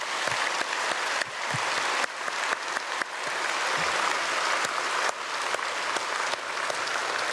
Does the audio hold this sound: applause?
yes